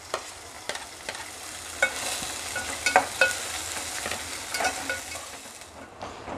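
Chopped onions fry in a pan toward golden brown, a constant soft sizzle broken by frequent scraping stirs and spoon taps, close up with no talk.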